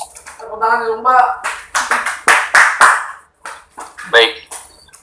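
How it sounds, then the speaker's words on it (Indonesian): A clapping sound effect plays during an online webinar, arriving as bursts of sharp claps mixed in with a voice talking over it. "Tepuk tangan dulu"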